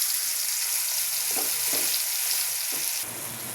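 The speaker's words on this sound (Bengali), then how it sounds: "একটু ভাজা ভাজা করে নেব" Spice paste of ground mustard, peanuts and coriander stems sizzles steadily in hot oil, a continuous close frying hiss with a few soft stirring scrapes and a brief louder flare near the end.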